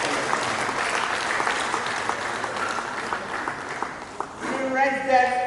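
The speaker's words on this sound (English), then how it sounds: "give her another round of clapping for Vice Chancellor" Applause from the audience at a university stakeholders' town-gown roundtable conference in Nigeria, a steady clatter of many hands that thins out near the end as a voice begins speaking.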